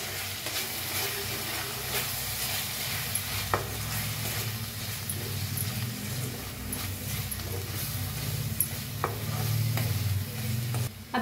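Sprouted vegetable with turmeric, Kolhapuri red chilli powder and salt being stirred in a hot pan, with a steady sizzle and hiss broken by occasional soft scrapes of the spoon, close and moderately quiet.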